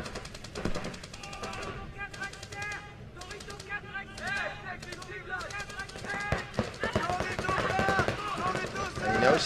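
Paintball markers fire in rapid volleys during a professional Millennium Series tournament match in Chantilly, France, bursts of popping shots clustering and intensifying toward the end, heard under commentary talk and crowd noise.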